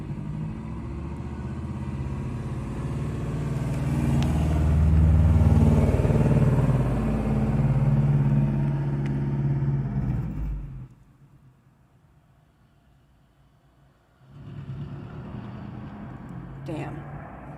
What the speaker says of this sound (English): this sounds like a motorcycle and it's a fucking car